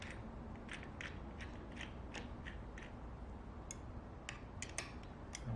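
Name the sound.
bolts being tightened on BattleBot chain planetary gear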